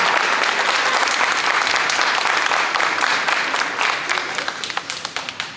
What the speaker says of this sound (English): let's give all these students a huge round of applause